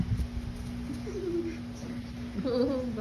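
A pigeon coos softly a couple of times, low gliding calls under a steady background hum, with a faint voice nearby.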